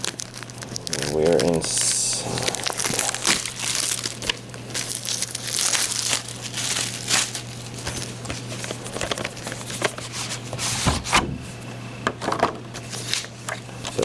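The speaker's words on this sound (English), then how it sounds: "Just use the fingernail to separate the plastic." Plastic wrapping being pried off an anime DVD box with a fingernail, crinkling and tearing in close bursts, with someone talking quietly over it.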